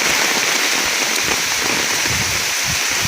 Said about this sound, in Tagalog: Kapag malakas yung ulan, saka lang nagkakaroon ng ganitong daloy ng tubig dito.